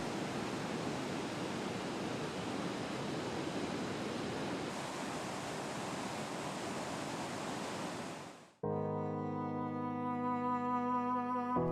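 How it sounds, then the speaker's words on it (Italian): A river near Lucca in the Tuscan countryside rushes over two small cascades as a loud, steady broadband roar that cuts off abruptly, followed by music. "il fiume fa 2 piccoli salti"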